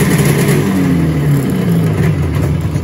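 A car engine runs rough at idle, a close, steady mechanical drone with a slightly wavering, uneven pitch and no voices.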